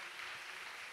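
A church congregation at a large retreat applauds the Lord, a steady, even wash of clapping filling the moment without a break or any talk.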